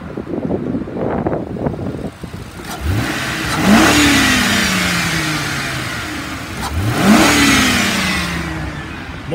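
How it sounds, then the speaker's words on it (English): A 2008 Ford Crown Victoria Police Interceptor V8 revs twice, each time climbing sharply and then winding slowly back down. Both revs are loud and close, with some wind noise on the microphone between them. "Let me rev this one up."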